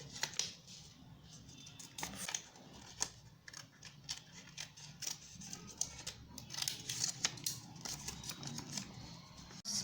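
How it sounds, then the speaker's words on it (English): Scissors cutting a paper circle in half for a paper bird craft, many quick crisp snips in irregular bursts, close and fairly quiet, with no talk. "Take a piece of circle and cut it in the middle."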